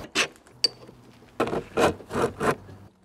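A closing handle slides along the top channel of a TentBox Cargo roof tent in several short, close scraping rubs of plastic on metal, separated by brief pauses and a sharp click.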